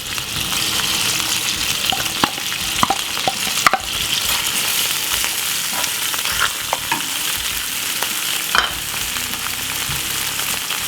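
White onion fries in unsalted butter in a pan for shakshuka, a steady close sizzle broken by occasional sharp clicks and scrapes of stirring, with no talking.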